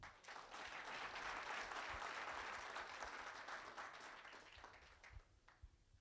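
An audience at a college event introducing Lila Poonawala at COEP bursts into dense, sustained applause that rises quickly, holds loudly for several seconds, then thins out into a few scattered claps.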